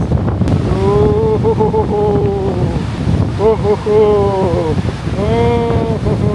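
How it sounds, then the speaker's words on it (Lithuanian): Seaside wind on the Gulf of Riga shore at a Latvian campsite buffets the microphone in a steady, loud roar throughout, with drawn-out harmonic cries rising above it in three separate bursts. "O, vėjolis!"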